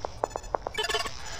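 Object detection cue from the audio game Shades of Doom: a quick series of five short, bright clinking pings followed by a brief glassy chiming shimmer, fairly quiet over a low background hum.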